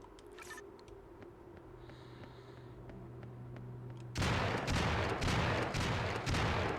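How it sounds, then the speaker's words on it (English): Shotgun firing and reloading in a video game, with quiet game ambience giving way to a dense burst of loud, rapid blasts and clatter in the last few seconds. "he pretty much reloads his shotgun Terminator style"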